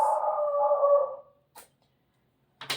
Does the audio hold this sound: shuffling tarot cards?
no